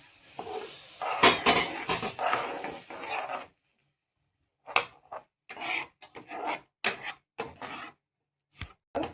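Milk powder, sugar and cardamom powder stirred together in a pan with a spoon, giving bursts of dry scraping and rubbing strokes, loud at first, then a pause and shorter separate scrapes.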